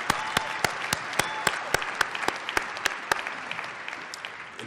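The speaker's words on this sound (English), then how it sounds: "You may applaud." A graduation audience applauds the 2015 graduates, with crisp, closely spaced individual claps up front over a fuller bed of clapping that gradually thins toward the end.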